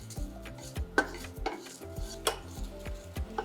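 Dry chillies, coriander and fennel roast over low heat in a pan while a spatula stirs them, producing soft scraping and clinks against the metal over a faint sizzle, close and fairly quiet.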